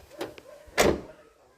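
A Toyota Hiace Commuter van door shuts with one solid, close thud, preceded by a couple of softer handling clicks, then quiet.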